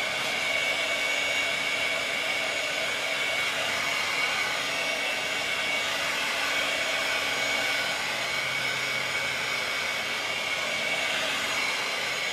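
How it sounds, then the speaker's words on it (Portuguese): A hair dryer runs continuously at close range, a steady, even whoosh with no pauses, used to dry freshly applied paint on a piece being finished with a scratched bitumen patina and gradient paint. "Dá pra secar com secador"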